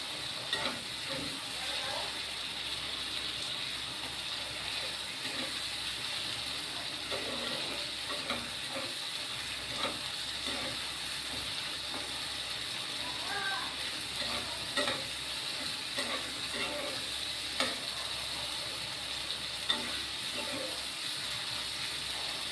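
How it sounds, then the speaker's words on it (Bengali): Masala spiced with Kashmiri chilli powder sizzles quietly in a pan while a spoon scrapes and stirs it in irregular strokes, a steady soft frying hiss running throughout. "এবার এটাকে আমি কষাবো, অনেক সুন্দর একটু কষাবো মশলাটা"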